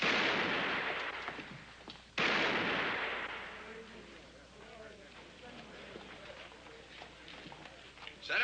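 Gunfire from a street shooting match in an Old West town, loud broadband blasts that open the clip and burst again near the two-second mark, then fade into quieter street ambience with faint voices.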